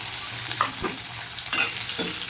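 Potatoes and red chillies fry in hot oil with a steady close sizzle, punctuated by a few quick stirring scrapes.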